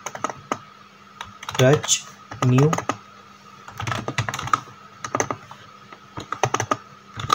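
Linux commands typed on a computer keyboard: bursts of close, crisp key clicks in an uneven rhythm, interleaved with someone speaking.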